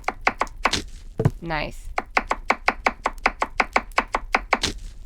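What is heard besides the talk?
chopping onion, carrot and celery in a horror video game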